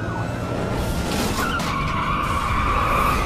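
Police car ramming a pickup truck's tailgate during a chase, its tires skidding in a loud, continuous squeal over a roaring engine.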